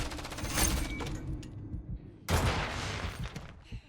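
A grenade explodes in Call of Duty Search and Destroy, coming as a loud sharp blast with a rumbling tail. It follows an earlier burst of gunfire-like crackle, with quieter game noise in between.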